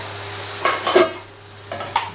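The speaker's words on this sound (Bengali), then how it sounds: "এগুলো আমি বাটারের সাথে আগে একটু নেড়ে চেড়ে নেব, ফোড়ন তো" Whole spices including cardamom and slit green chilies stirred in hot sizzling butter in a pan, a few short scraping stir strokes over a steady soft sizzle, close and fairly quiet with no talking.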